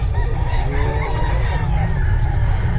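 A Black McRae hen clucking and calling in a yard, several raspy fowl calls heard fairly close over a loud, continuous low rumble of background noise.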